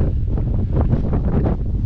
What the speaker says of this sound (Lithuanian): Vėjas tai nežmoniškas.